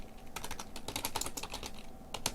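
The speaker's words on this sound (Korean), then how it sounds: "요때는 키보드에 Shift 탭 누르시면 됩니다." Rapid typing on a computer keyboard, including presses of the Tab key, a close, quiet stream of crisp key clicks with a short pause before a final pair of taps.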